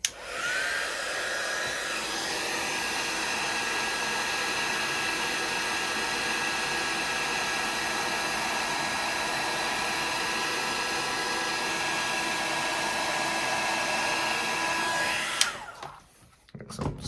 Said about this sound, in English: We're going to now heat set this